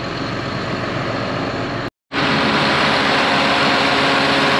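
A car engine idles steadily and loudly up close after a troublesome no-start, a constant low rumble cut by one brief dropout of about a fifth of a second before it resumes.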